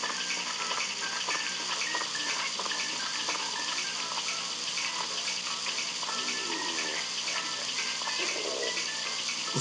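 A steady hiss of running shower water fills the scene in the video game Böse Nachbarn 2. It is constant and even throughout, with faint background game noises and no speech.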